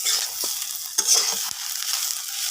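Vegetable bhaji frying in a pan, a steady high sizzle with a few soft scrapes and stirs of a spatula, fairly close and continuous.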